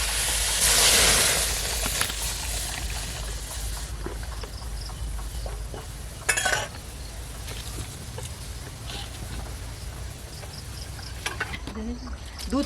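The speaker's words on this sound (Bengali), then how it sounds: "অল্প করে জল দেওয়ার পরে এবারে এই যে আগে থেকে জাল দেওয়া দুধ আমি এবার ঢেলে দেবো" Pre-boiled milk is poured into a hot pan holding a little water, setting off a loud sizzling hiss that fades into a steady bubbling simmer with occasional clinks of a utensil.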